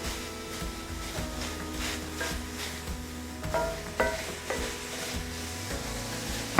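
Ground meat sizzling in a pan while a utensil breaks it up, a steady crackling fry punctuated by repeated scraping and clacking taps against the pan, no voices.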